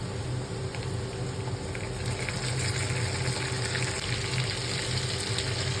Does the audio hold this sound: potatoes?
yes